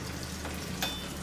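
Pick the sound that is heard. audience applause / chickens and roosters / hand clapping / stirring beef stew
stirring beef stew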